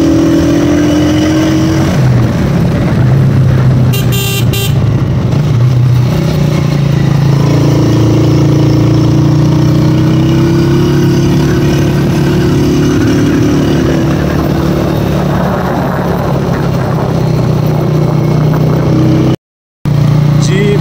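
A motorbike engine drones steadily on a Kashmir mountain road near Muzaffarabad while riding, a loud close hum with wind rush and a brief shift in pitch partway, with a short dropout near the end.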